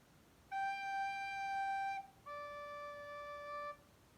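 A recorder plays two clear sustained notes, a high one held about a second and a half, then a lower one, in quiet surroundings.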